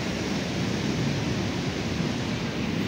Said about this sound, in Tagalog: Tapos yung agos pa ng alon.